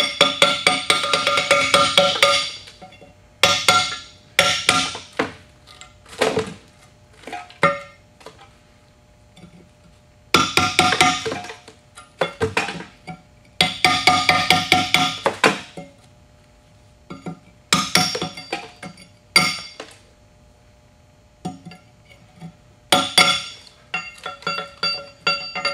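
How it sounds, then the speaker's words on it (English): A hammer and chisel chip out damaged concrete in bursts of sharp, ringing metallic strikes, loud and close, with rapid clusters of blows separated by short pauses and no talk. "So we'll just carefully chisel this out."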